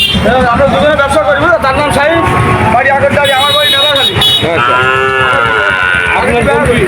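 Cattle, including young bull calves, low and moo close by amid a busy livestock market crowd, with people talking loudly over the animals throughout.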